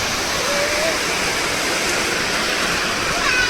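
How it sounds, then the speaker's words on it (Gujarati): Heavy rain with some wind pours down outdoors in a dense, continuous rushing roar, loud and unbroken from start to finish. "ફૂલ વરસાદ આવ્યો છે અને એકદમ જોરદાર છે. મોટા મોટા છાંટા આવે છે"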